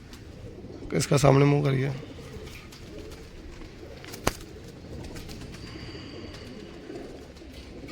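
Pigeons coo in a loft, with one throaty burst up close followed by faint background murmurs and a sharp tap, while someone speaks briefly nearby.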